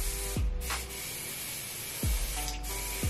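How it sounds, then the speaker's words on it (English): Hairspray from an aerosol can sprays in short hissing bursts at close range, three quick puffs spaced over a few seconds with a brief crackle between them. "literally uses all of my hairspray"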